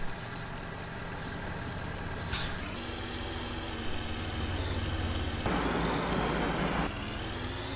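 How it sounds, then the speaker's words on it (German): Truck handbrake released in the Cityconomy driving game, heard as a hiss of air over a steady idling diesel engine drone, with a short burst early and a longer broadband rush later, no talking. "In der Zwischenzeit können wir ja schon mal die Handbremse lösen."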